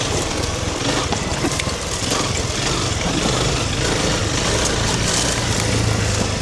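A Honda CRF300 Rally motorcycle engine runs steadily on a technical trail in Thailand, a constant loud low drone with wind noise and no speech.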